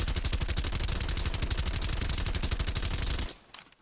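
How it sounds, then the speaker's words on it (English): Suppressed XM4 assault rifle from Black Ops Cold War fitted with an agency suppressor, firing a long rapid unbroken burst of muffled shots in tight rhythm, then stopping abruptly into a short quiet tail. "XM4 with the agency suppressor, field agent foregrip, serpent speed tape, takedown barrel"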